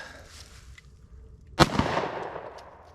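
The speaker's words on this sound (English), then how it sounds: "Let me grab another round and try again, get 3 shots." A single sharp gunshot from factory-loaded ammunition on a range cracks loudly near the midpoint and rings out into a fading tail, with quiet outdoor background before it.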